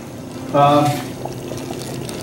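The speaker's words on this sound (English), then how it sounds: "I'll add some water according to the size of the pan and the quantity of the meat" Water is poured into a pan of BBQ ribs in a kitchen, a short, fairly loud gush lasting about half a second and then fading into quiet background.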